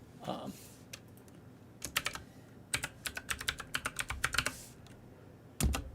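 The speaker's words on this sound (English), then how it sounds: "And Chris, when I get to typing in my password, he's going to block it just because." Someone types a password on a computer keyboard, with rapid bursts of crisp key clicks in uneven runs, close and clear against a quiet room.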